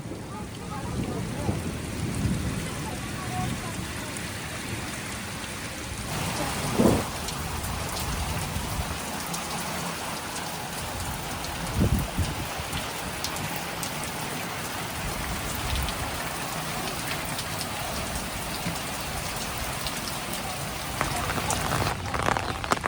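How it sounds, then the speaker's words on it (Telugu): Steady, heavy rain pours down continuously on a village, a dense hiss with occasional louder splashes and faint distant rumbles, no voices. "ఈ వర్షం ఈ గ్రామాన్ని చాలా అంటే చాలా బ్యూటిఫుల్గా తడిపి వెళ్ళింది"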